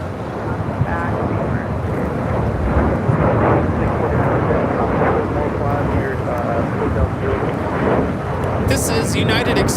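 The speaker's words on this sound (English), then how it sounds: "look at these takeoffs" Airliners taking off at LAX, including an E175 departure, heard as a broad roaring jet rumble with wind buffeting the microphone and people talking over it.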